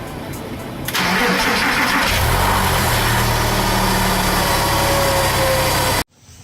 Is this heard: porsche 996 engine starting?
yes